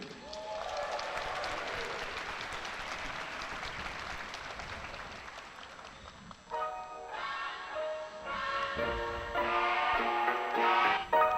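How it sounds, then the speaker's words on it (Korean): Applause from the crowd opening a Top FC mixed martial arts fight card in Korea, a broad wash of clapping that gives way after a few seconds to loud music with a beat. "여러분의 힘찬 박수로 문을 열겠습니다"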